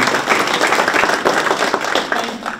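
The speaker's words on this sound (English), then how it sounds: "Let's give them a big round of applause." Applause from a forum audience after speakers are thanked, a dense, steady wash of clapping that fills the whole moment at close range with no talk over it.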